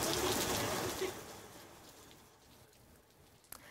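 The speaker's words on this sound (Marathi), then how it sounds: "अनेक भागात रिमझिम पाऊस झालाय" Light rain patters on surfaces in Mumbai, the steady wash loud at first and gradually thinning and softening, with a brief sharp knock near the end.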